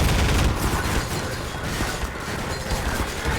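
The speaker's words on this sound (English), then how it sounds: "Everyone's just shooting at you." Dense video-game gunfire from many enemies on a map, a loud, continuous crackle of overlapping shots and bursts that fills the whole stretch without pause.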